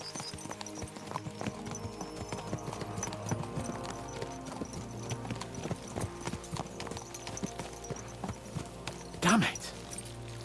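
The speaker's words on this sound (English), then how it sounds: "Let's really spur these horses on, eh?" Rapid rhythmic hoofbeats of galloping horses in the video game Kingdom Come: Deliverance 2, over a layered music bed, with a brief louder whinny-like burst near the end.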